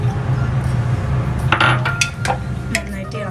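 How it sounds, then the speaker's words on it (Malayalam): Chopped beans and carrots tipped into a metal cooking pot for quick fried rice, giving a short cluster of clinks and rattles midway over a steady low kitchen hum. "ഇതിലേക്ക് നമുക്കിനി കട്ട് ചെയ്ത് വെച്ചിരിക്കുന്ന ബീൻസ്, ക്യാരറ്റ് അതും കൂടെ ഇട്ട്"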